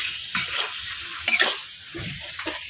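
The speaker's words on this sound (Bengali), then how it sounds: "এখন মশলাটা মাংসের সাথে খুব সুন্দরভাবে মিশাইলাম" Meat mixed with spices sizzles in a pan while a utensil stirs and scrapes in a few uneven bursts, close and moderately loud with no talking.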